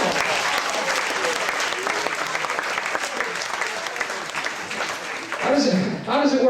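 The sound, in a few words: audience round of applause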